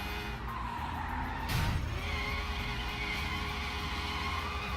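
Car tires squealing and skidding through donuts in the Sleeping Dogs video game, a steady engine drone under a faint continuous screech with a louder burst partway through.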